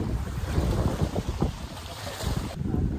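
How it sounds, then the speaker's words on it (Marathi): Wind-driven waves lapping on the freshwater lake of Upper Vaitarna Dam, a steady windy wash of water with buffeting wind on the microphone throughout, fairly close and continuous. "मित्रांनो, अशा लाटांचा आवाज येतोय"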